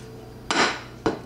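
Stainless steel pots, pans and lids clank against each other in two sharp metallic knocks with a brief ringing tail, close and fairly loud with no talking.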